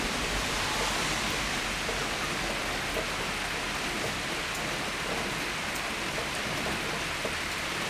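Heavy rain during a tropical storm, a dense, steady roar of downpour on surfaces that fills the whole stretch evenly without letting up, with no voices.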